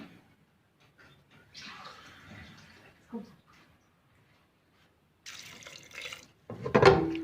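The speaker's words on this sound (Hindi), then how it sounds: "अब मैं इसके अंदर मज़ीद पानी डालूंगी, 1 कप।" A cup of water is poured into lentils in a pot of cooked beef, a short close splash at the very end after stretches of quiet and soft voices.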